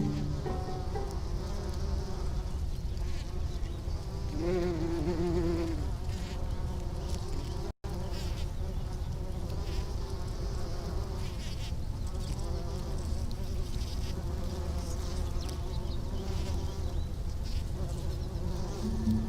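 Bees buzz around flowers in a continuous, busy drone of several insects, rising and falling as they pass close to the recorder, with brief louder whines over a constant outdoor hum; no talking.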